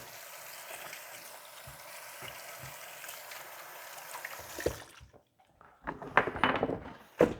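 Chicken frying in an All-Clad pan gives a steady broadband sizzle for about five seconds, then the pan goes quieter with scattered louder crackles, spits and handling clatter near the end.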